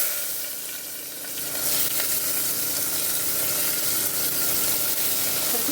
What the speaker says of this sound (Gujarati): હવે એની અંદર હિંગ નાખીશું અને થોડું લાલ મરચું અને આ જે આપણે ગુવાર સિંગ ધોઈ છે તે અંદર નાખી દેવાની છે.